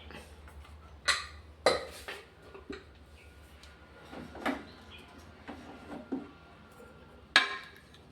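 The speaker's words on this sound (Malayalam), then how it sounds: "രണ്ട് വിസിലായപ്പോൾ ഞാൻ ഫ്ലെയിം ഓഫ് ചെയ്തിരുന്ന് നമുക്ക് കുക്കർ ഒന്ന് തുറന്നു നോക്കാം" A pressure cooker of cooked beans is opened after two whistles with the flame off, bringing a scattered series of sharp metallic clanks and clinks of lid and pot against quiet background.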